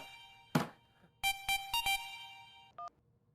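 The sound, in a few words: phone ringing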